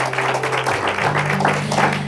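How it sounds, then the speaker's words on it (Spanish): Church congregation applauding the Holy Spirit during a Spanish-language worship service, a steady wash of clapping with an organ-like sustained tone underneath. "Regálele un aplauso al Espíritu Santo"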